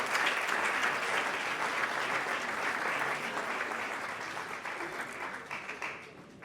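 Applause for a nominee at a Congolese awards ceremony, a full crowd clapping steadily before tapering off toward the end.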